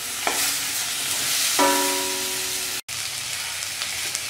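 Steady sizzling of eggplant frying in a hot pan until crisp, with brief clinks of a utensil stirring and a momentary break in the sound.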